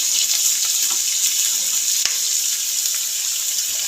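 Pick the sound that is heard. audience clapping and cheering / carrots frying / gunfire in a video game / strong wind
carrots frying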